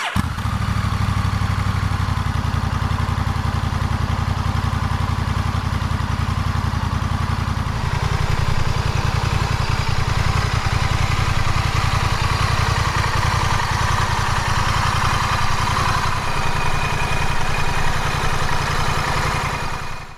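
A 2024 Honda CMX1100 Rebel with standard exhaust and dual clutch transmission idles steadily, a low, even rumble sounding close and loud throughout with no voices.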